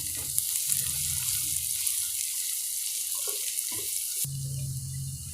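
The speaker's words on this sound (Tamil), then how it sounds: "வெங்காயம் நல்லா வதங்கியாச்சு." Onions with green chilli and curry leaves sizzle in a pan, giving a steady, close hiss with faint stirring scrapes throughout.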